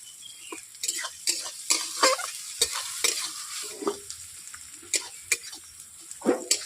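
Sliced onions frying with salt in a pan while being stirred, a soft steady sizzle broken by repeated scraping strokes of a spoon against the pan, close and fairly quiet, with no talking.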